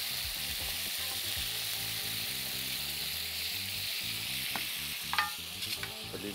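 Meat for a black pepper cream sauce dish sizzles loudly in a pan as it is turned and stirred, a dense continuous frying hiss close up with a few clacks of a utensil near the end, no voices.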